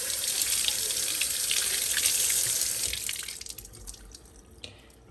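Tap water splashes loudly over an electric spin scrubber brush being rinsed in a sink, then cuts off, leaving a few drips.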